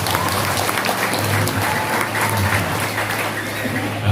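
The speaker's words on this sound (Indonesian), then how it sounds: "Beri tepuk tangan buat Bunyai Badriyah." Audience at an Islamic boarding school gathering applauding a female religious leader, a dense steady clapping from a large crowd that continues throughout.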